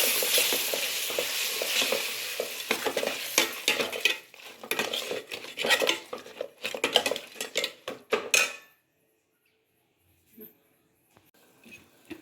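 Ground tomato paste sizzling in hot oil as it is stirred in a pan for a cumin-pepper rasam, with scraping spoon strokes and clinks, loud at first then tapering off before fading to near silence.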